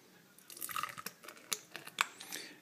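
Homebrewed blackberry witbier being poured from a bottle, with soft splashing, glugs and sharp drips arriving in a few quiet, irregular bursts, close by and alone.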